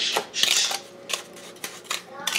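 A small spoon stirs white sugar and cinnamon together in a bowl, making a few bright, scraping clinks that come in short bursts close by, with quieter gaps between them.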